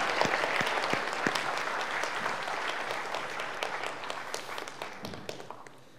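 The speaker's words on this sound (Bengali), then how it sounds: "সবাই জোরে তালি দিয়ে অভিনন্দন জানাই" Audience at a shadow parliament debate on revenue policy applauds the chief guest, a steady wash of many hands clapping close by, sustained for several seconds before thinning out at the end.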